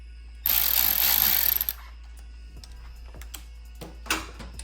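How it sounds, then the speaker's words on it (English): A ratchet torques the clutch spring bolts on a DRZ400 motorcycle, opening with a loud, rapid burst of close clicking for about a second, then a few scattered softer clicks and taps. "then we'll go back and we'll torque them"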